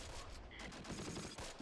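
Rapid gunfire in the WWII tactics game Close Combat rakes a tank, a dense, continuous stream of small-arms and machine-gun bursts that stays steady and fairly loud for the whole stretch.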